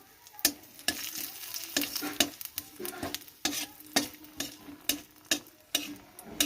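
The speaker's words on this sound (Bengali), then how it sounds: "আমি কড়ার মধ্যে তেল যেটুকু ছিল সেটুকুর মধ্যে আমি পাঁচ ফোড়ন দিয়ে নিলাম দিয়ে এবার আমি এই যে দুটো শুকনো লঙ্কা ভেঙে দিয়ে দিলাম" Panch phoron and broken dried red chillies fry in a little oil in a wok, a low sizzle punctuated by about a dozen sharp spatula taps and scrapes at a steady stirring rhythm.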